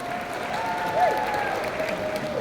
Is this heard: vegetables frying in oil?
no